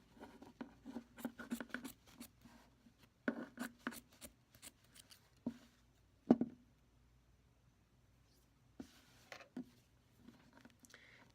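Scissors snip out a stick for a DIY lollipop hair clip, giving quiet irregular clicks and short cuts in bursts, with gaps of near silence between them.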